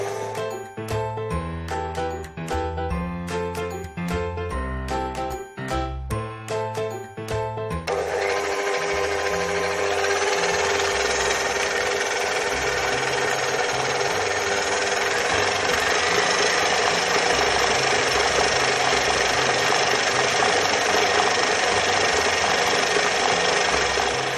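An electric mixer creams butter with icing sugar for eggless custard cookie dough, a steady loud whir that runs on after a short rhythmic musical opening.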